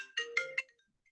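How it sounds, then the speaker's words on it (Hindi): A phone ringtone plays three quick rising tones, faint and clear against silence, then fades out. "फोन आ गया, मेरा फोन आ गया"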